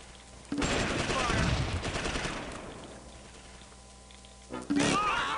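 Gunfire from the World War II strategy game Close Combat: Invasion Normandy, a sustained crackling burst of rifle and machine-gun fire that fades, then a second sharp volley near the end, with a voice speaking in between.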